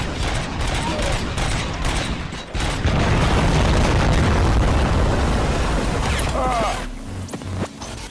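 Explosions and blasts from the RoboCop: Rogue City video game fill the mix, a sustained, loud roar of booming bursts and debris that tails off near the end with a few quieter pops.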